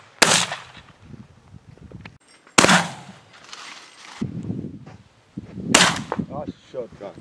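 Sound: shotgun shot while wingshooting birds

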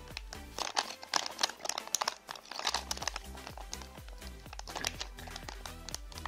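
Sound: peeling a sticker off a new NVIDIA RTX 4060 graphics card

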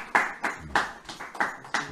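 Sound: congregation clapping

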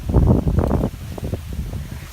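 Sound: strong wind by the sea

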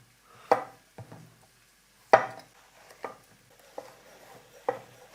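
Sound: knife chopping a small zucchini

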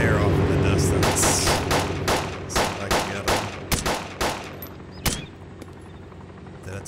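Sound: gunfire in Arma 2 DayZ video game

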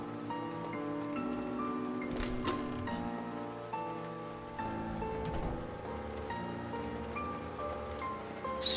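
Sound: rain in the Siren Head horror video game

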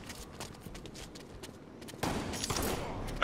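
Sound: shotgun fire in Halo video game

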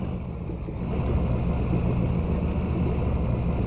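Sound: vehicle engine shifting into fourth gear, from a video game

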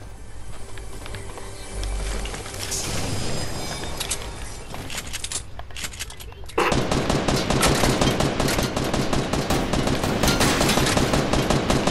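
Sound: gunfire in a video game

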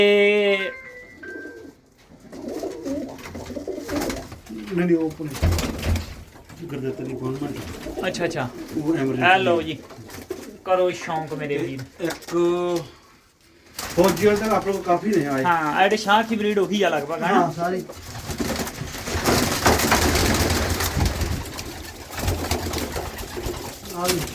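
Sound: Punjabi Malwai pigeons cooing

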